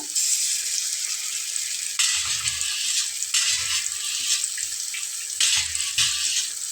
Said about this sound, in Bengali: তো আমি বাটিটা একটু ধুয়ে পানি দিয়ে নিচ্ছি।